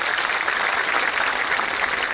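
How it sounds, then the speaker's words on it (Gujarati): An audience at a gathering of young people breaks into loud, sustained applause, a dense wash of clapping that holds steady for the whole short stretch with no voice above it. "એમને જોરદાર તાળીઓના ગડગડાટથી બતાવો"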